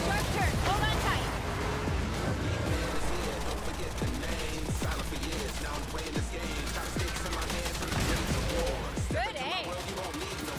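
Gunfire in the open-world anime game Ananta, with dense bursts and sharp repeated shots running through the whole stretch, layered over busy music, engine noise and voices talking throughout.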